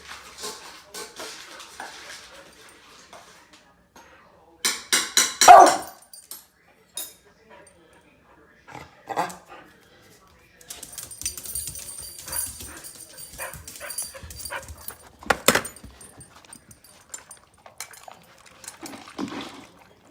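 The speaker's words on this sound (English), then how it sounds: "And you get to see Sandy bark in the final clip today over here." Dog barking in scattered bursts with whimpers and yips between quiet gaps, close and fairly loud, alongside some splashing water sounds.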